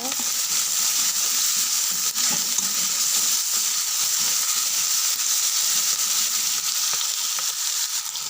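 Ginger, garlic and onion fry in a pan with a steady, loud sizzle and the occasional clink of stirring, with no talking.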